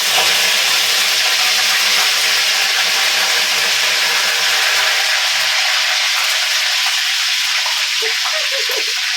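Onions sizzle steadily in a hot pan while a Tamil country-chicken curry is being started with mustard seeds, a bright continuous frying hiss with occasional stirring scrapes, close and loud with no talking.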